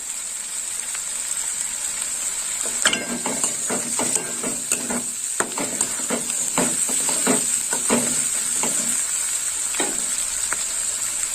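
Quartered tomato and ground garam masala frying in a pan, with a constant loud sizzle broken by repeated stirring clatters and scrapes.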